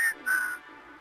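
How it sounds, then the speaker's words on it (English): A video game character in Wasteland 3 whistles into a computer microphone to send a code: two short, clear whistled tones, the second slightly longer, close and alone, with a faint hiss after. "I, whistle at the computer's microphone"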